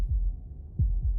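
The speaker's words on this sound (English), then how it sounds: "That was the sound of a heartbeat." A heartbeat sound effect from a video game, deep muffled thumps in a quick lub-dub pattern, close and soft, alone with no talk.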